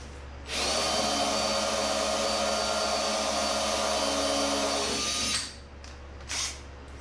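A power drill bores a 1 1/4-inch hole with a hole saw on a 1929 roadster pickup project, one steady whine of about five seconds that spins down, followed by a few faint handling knocks.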